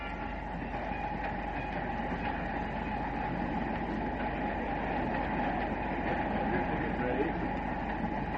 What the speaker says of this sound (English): A scene on a train just after crossing into Canada by way of Niagara Falls.